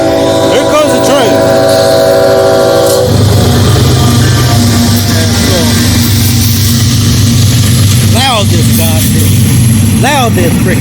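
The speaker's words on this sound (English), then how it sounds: "Here comes the train." A loud train rumbles past with a low, continuous roar that swells after a few seconds and stays steady. Rising squealing tones cut through it, and someone talks over the start.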